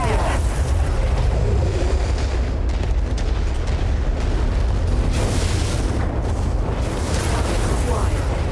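Explosions as a destroyed artillery piece goes up in MechWarrior 5, played in VR with HOTAS and rudder pedals: dense, continuous booming rumble with repeated bursts, loud and close throughout.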